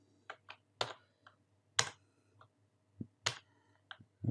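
Sparse keystrokes on a computer keyboard, roughly a dozen separate crisp clicks scattered over four seconds, close and fairly quiet with no voices.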